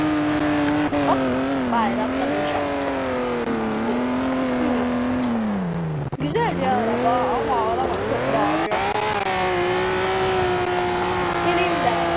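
A car drifts with its tires squealing in long, wavering, pitch-sliding tones over a loud, revving engine, sustained for the whole stretch.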